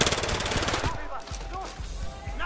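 Rapid bursts of automatic gunfire in a Battlefield Hardline police campaign chase, loud and dense at first, then scattered shots and impacts while a voice talks over the action.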